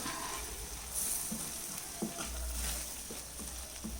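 A spoon stirs through a pan of potato and green peas curry just after ground fennel powder goes in, with a soft steady sizzle and a few light scraping knocks against the pan.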